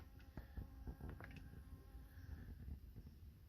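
A bee buzzes steadily around a Stenocereus stellatus cactus flower outdoors, a close, continuous drone with faint ticks of movement and no talking.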